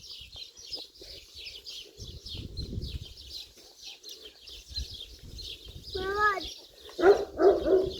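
A dog barks a few times toward the end, fairly close, in a short burst of yaps after quieter outdoor sounds with faint birds and people talking.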